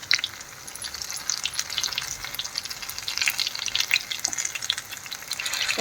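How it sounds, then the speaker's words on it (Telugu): Zucchini fries in a pan with a steady crackling sizzle that runs the whole time, dotted with small sharp pops and brief stirring scrapes. The sound is close and fairly quiet, and nobody talks over it. "మంచి కలర్ వచ్చేసి ఫ్రై చేసుకోవాలి."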